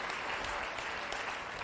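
A studio audience on an Italian television show claps steadily and densely in a short, continuous burst of applause for presenter Diletta Leotta.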